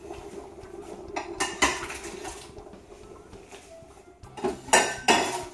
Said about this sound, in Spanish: Le vamos a echar las patatas.